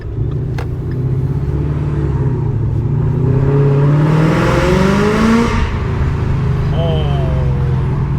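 A 700 hp Procharger-equipped Ford Mustang GT roars loudly as it accelerates, its engine note rising and shifting through gears in a sustained, close-up howl with road rumble underneath.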